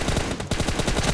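Rapid automatic gunfire from the mobile battle-royale game PUBG Mobile, a steady burst of shots with a brief break midway, loud and continuous with no talk over it.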